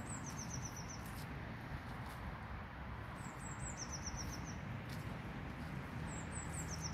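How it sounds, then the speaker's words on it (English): Several birds sing in short, high chirping phrases that repeat at intervals over a steady outdoor hiss, in a nature reserve forest in Leicestershire, UK, in February. "lots of birds I can hear"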